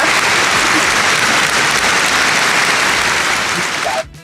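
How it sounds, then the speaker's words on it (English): A live audience claps in a steady, dense round of applause for a co-host at a talk show event, loud and continuous for about four seconds before cutting off abruptly. "A little round of applause for our amazing co-host who was our teacher today."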